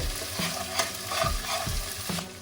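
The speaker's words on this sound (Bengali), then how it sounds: "এবার আমি এক চামচ মতো আদা রসুন বাটা দিয়ে দেবো ভালো করে মিক্স করে নিচ্ছি" A spoon stirs ginger-garlic paste into onions frying in a pan for a Bengali rui fish curry with cauliflower and potato, giving several scraping strokes over a steady close sizzle, with no voices.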